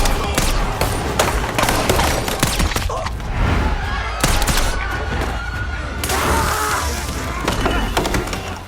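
Gunfire and brawling in an action film: dense bursts of shots and sharp impacts crackle continuously, loud and close, with heavy thuds layered throughout.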